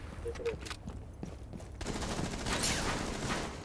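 Gunfire in Rainbow Six Siege, a couple of faint early shots giving way to sustained bursts of rapid automatic fire and clatter, fairly loud and dense, with a voice heard partway through.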